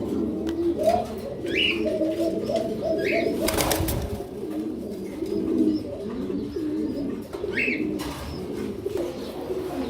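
A chorus of fancy Huma pigeons at a pigeon farm cooing continuously in low, overlapping murmurs, with a few higher chirps and a brief rustle midway.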